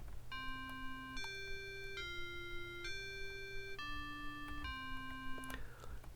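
Chimey, bell-like tones from a 1980s FM synthesizer, set at a high modulator ratio close to ring modulation. About six sustained notes step up and down in sequence, each with bright metallic overtones, over a low steady hum with no talking.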